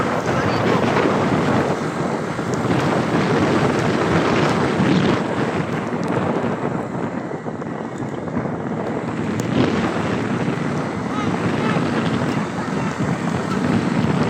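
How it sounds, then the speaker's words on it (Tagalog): Loud, constant wind roar buffeting the microphone at a roadside cycling criterium race, with a rushing, boat-like rumble underneath and faint voices partly buried in the gusts. "Lakas ng hangin guys."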